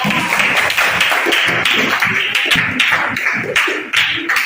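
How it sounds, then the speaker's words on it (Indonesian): A classroom of fifth-grade elementary pupils claps steadily, with dense, continuous hand claps filling the room at close range for several seconds and no talk over them. "Tepuk tangan untuk yang sudah bisa"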